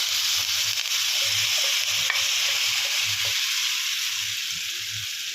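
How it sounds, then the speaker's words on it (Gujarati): Millet handvo batter goes into hot tempering in a pan and fries with a loud, continuous sizzling hiss. Soft low stirring thumps recur beneath it, and the hiss eases slightly toward the end. "સરસ રીતે વઘાર થઈ જાય એટલે આપણે બેટર અંદર નાખી દેવાનું છે"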